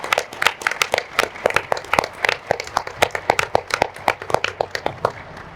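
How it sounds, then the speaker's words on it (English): A conference audience claps in a scattered, moderately sparse applause, individual sharp hand claps distinct and fairly near, fading slightly toward the end with no talk. "Please, a round of applause for these three extraordinary women."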